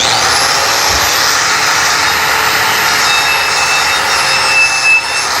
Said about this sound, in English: Two hands on a grinder is better.